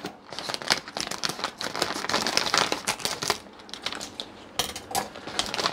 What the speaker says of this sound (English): Let me just get the scissors going across so we have.